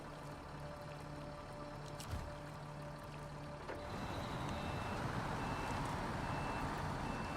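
A truck in the video game SnowRunner churns through thick mud, its engine a steady low drone with sloshing, gurgling wash that grows louder and denser halfway through, while a faint thin beeping tone sits above.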